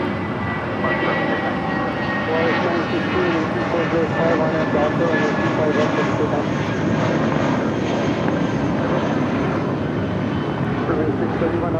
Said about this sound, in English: Spirit flight heading to Louisville, Kentucky, taking off here on the south side at 25 right